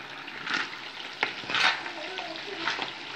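Vegetables stir-frying in a pan for Nigerian fried rice, a continuous sizzle with periodic louder scraping and stirring swells and a light utensil knock.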